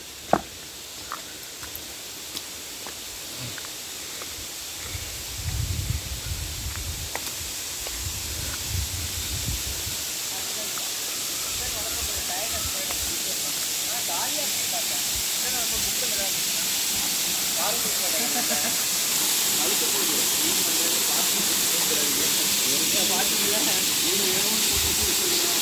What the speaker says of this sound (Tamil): வாட்டர் ஃபால்ஸ் விழுது, சத்தம் கேட்குது